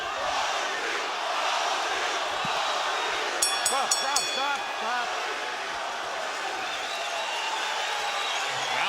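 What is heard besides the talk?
boxing arena crowd cheering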